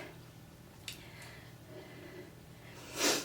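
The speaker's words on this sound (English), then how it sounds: "I'm sniffing, I've got a little bit of a cold." A quiet nasal sniff from a person with a slight cold comes near the end after faint breathy noises, close to the listener against a low steady hum.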